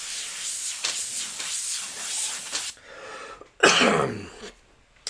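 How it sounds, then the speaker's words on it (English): A person coughs repeatedly in a harsh, hacking burst, followed by a louder, deeper single cough near the end, close and alone without speech. "I did finally get some antibiotics for this damn cough that won't go away this week"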